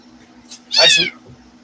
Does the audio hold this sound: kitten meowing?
yes